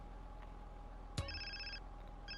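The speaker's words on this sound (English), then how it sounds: "Yeah, I knew I had to fucking answer a phone" A cell phone rings in-game in Grand Theft Auto: San Andreas (The Trilogy), a sharp click followed by repeated bursts of electronic tones with a steady low hum beneath, fairly quiet and with no speech.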